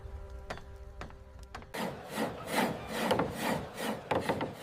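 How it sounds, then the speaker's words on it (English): Timber being worked by hand at a 1600s Amsterdam shipyard: a few sharp wooden knocks, then a steady run of rhythmic rasping saw strokes, fairly close and continuous. "The constant sound of saws and hammers fills the air."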